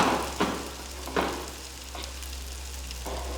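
Potatoes frying in a little oil in a pan, a steady close sizzle broken by a few louder crackling bursts as pieces are stirred or dropped in.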